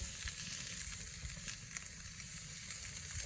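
Steady, loud sizzling of ribeye steak on a hot flame grill, a continuous crackling hiss with small pops, no voices.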